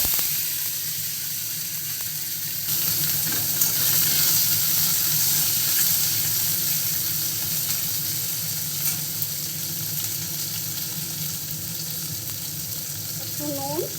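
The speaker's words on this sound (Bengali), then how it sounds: "এর মধ্যে কেটে রাখা উচ্ছেগুলো ভেজে নেব।" Bitter gourd pieces frying in hot oil give a steady, close sizzle with soft crackle throughout, brief stirring noises mixed in, and no talking.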